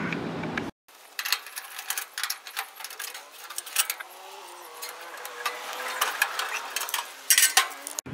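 Metal screws and a bottom access panel being handled on a Hayward H-series millivolt pool heater, giving light clinks and scrapes that come and go close by, with brief rattles and no talking.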